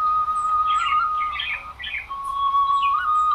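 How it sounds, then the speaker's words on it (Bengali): Birds chirp and tweet in a village garden in rural Bengal, with short bright calls repeating over a steady high-pitched tone at moderate loudness. "বাগিচায় যে সমস্ত পাখিদের কোলাহল এই মুহূর্তে শোনা যাচ্ছে"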